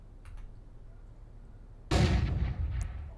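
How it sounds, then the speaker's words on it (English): A flashbang grenade going off in Counter-Strike 2 after a quiet moment, one sudden loud bang with a short ringing tail and a smaller knock just after. "That's the flashbang I threw from A site"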